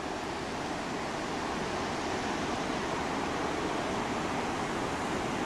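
The Nass River roars steadily about 130 feet below a single-lane wooden deck bridge, a loud, unbroken broadband rush of fast water that stays even throughout with no voices.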